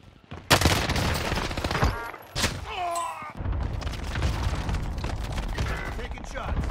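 Dense automatic gunfire from an M1928 SMG in the video game Warzone, rapid close bursts with sharp impacts and a brief electronic tone, under a voice talking.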